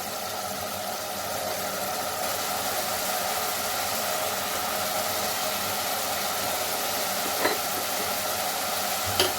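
Eggplant cooking with salt in a pan for vangibath, a dense continuous sizzle and stir-fry hiss, loud and close, with a couple of faint utensil taps.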